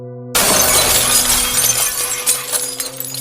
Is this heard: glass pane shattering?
yes